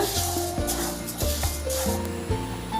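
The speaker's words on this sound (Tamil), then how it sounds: "இப்போ இந்த உளுத்தம்பருப்பையும் நல்லா ரோஸ்ட்டாக வர அளவுக்கு வறுத்து எடுத்துக்கலாங்க." Urad dal roasts in a little oil in a pan, giving a continuous close hiss and sizzle with periodic scraping strokes as the lentils are stirred.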